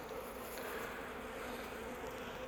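Honeybees buzzing at an open beehive, a dense, steady drone of many wings filling the air close by, continuous and unbroken with no voices over it.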